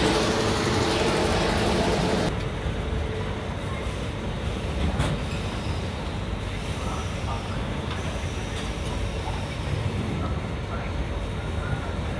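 A Kanpur Metro train is heard from inside as it runs, with a loud steady rumble and rattle of wheels on track and faint squeals, continuous throughout.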